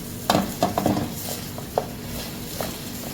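Chicken wings sizzle softly in a pan with a few scraping stirs and clinks, close by and fairly quiet.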